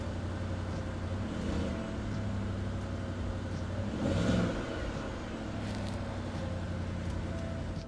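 A car engine idles steadily up close, then rises briefly in pitch and loudness at a single throttle blip before settling back to a steady idle.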